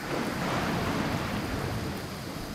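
Rain in the video game Greek: Memories of Azure, a dense, steady wash of falling water with a low rumbling undertone, constant and fairly loud throughout, no speech.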